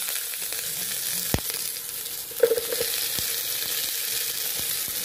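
Chopped large onions sizzle steadily as they fry in a pan for South Indian sambar vada, with a constant hiss, a couple of sharp clinks and a brief stir partway through.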